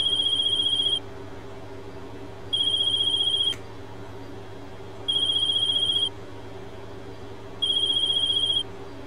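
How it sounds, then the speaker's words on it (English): A phone ringing in a GTA roleplay game, four evenly spaced electronic ring bursts about a second long with pauses between, clear and steady above a low background hum. "Let's answer this phone call."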